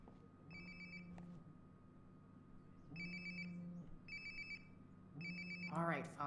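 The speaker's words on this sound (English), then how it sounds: "Sounds like my phone is definitely nearby." A phone ringtone rings in the video game Life Is Strange: Before the Storm, four repeated bright ring bursts with gaps between them, fairly quiet over a low game hum, and a short rising chime at the end.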